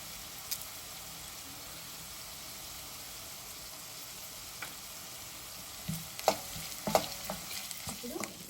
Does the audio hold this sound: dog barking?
no